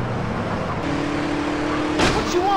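Car engine in GTA San Andreas, a steady low motor drone with a brief rising whine and a sharp bump near the end, moderately loud with no talking.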